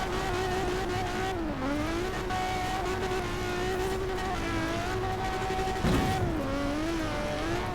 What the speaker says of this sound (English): I love how you can hear the engine while you're reversing.